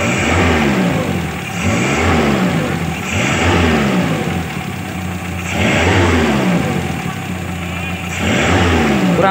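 A Daihatsu Zebra engine is blipped repeatedly during carburetor tuning, with roughly four revving surges rising and falling over a steady close idle and faint knocking, and no voices.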